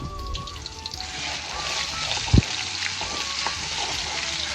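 Ginger garlic paste frying in a pan gives a steady sizzle with a watery, crackling hiss, broken by a brief clunk of a spoon or utensil partway through.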